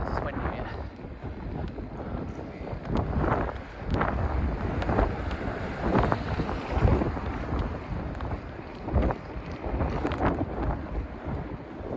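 Wind buffeting a microphone while riding along a wet road at night in the rain, heavy gusty roaring that swells and fades in irregular bursts, fairly loud and close, with no talk.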